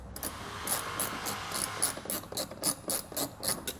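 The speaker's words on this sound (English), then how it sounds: "we can take out the two bolts that are located just on the other side of our fender well" Rapid ratchet clicks from an 8mm socket wrench backing out fender-well bolts on a 2015 Ram 3500, sounding in quick close bursts with short pauses, with no talk.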